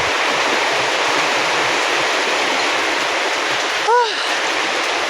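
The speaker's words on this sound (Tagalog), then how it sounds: "Actually naabutan tayo ng ulan." Steady heavy rain pours down without letup, a dense broadband hiss filling the whole stretch, with a brief faint chirp-like sound near the end.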